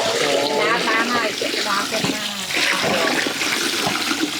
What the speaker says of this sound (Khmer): ចាក់ទឹកចូលហើយ